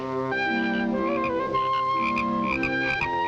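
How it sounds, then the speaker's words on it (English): A frog croaks in a steady, buzzing series of calls, close and fairly loud, with no voices. "Here we show you a close-up of a frog croaking."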